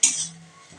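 A spoon stirs soy sauce into egg soup, giving a short bright clink against the bowl followed by a faint scraping swirl.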